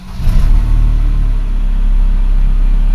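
A Mercedes W210 car engine cranks and catches with a brief surge, then revs and settles into a steady, close, loud low rumble.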